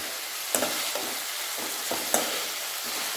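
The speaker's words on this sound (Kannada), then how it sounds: "ಇದು ಗೋಲ್ಡನ್ ಬ್ರೌನ್ ಆಗೋವರೆಗೂ ಈರುಳ್ಳಿ ಈ ಥರನೇ ಕಲಿಸ್ತಿರ್ಬೇಕು" Onions frying in a pan while being stirred to golden brown for bendekai palya, a steady loud sizzle with a few soft scrapes of the spoon at irregular moments, no voices.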